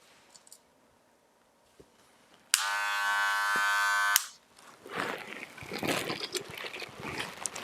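A hair clipper buffing during a skin fade haircut: a loud electric buzz starts abruptly, hums steadily for under two seconds and cuts off, followed by softer rustling and brushing.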